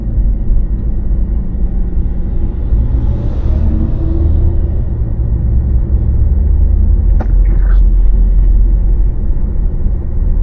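A dump truck rumbling along behind a car on old US 21 through small Ohio towns, its low engine drone steady and continuous throughout, with a brief sharper clatter near the end.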